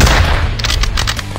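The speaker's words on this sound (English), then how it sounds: "Oh crap, rocket." A rocket explosion rumbles loud and close in a survival shooter on a mountain map, a sustained low boom followed by quick crackling debris bursts.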